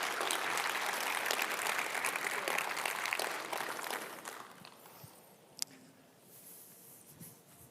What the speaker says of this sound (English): round of applause is good